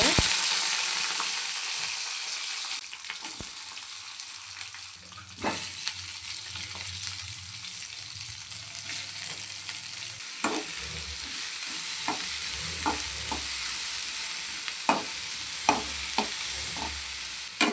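Onions roasting in two spoons of hot oil in a pan for a country-chicken sambar: a constant bright hiss of frying with scattered sharp spoon scrapes and taps, growing busier toward the end.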